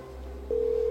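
A steady telephone ringback tone starts partway through a call and holds as a loud, pure continuous beep over a low electrical hum, with no voices.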